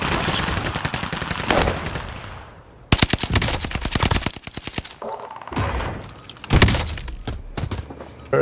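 Rapid automatic gunfire from Call of Duty Warzone comes in several loud, close bursts separated by short pauses, with little talk over it.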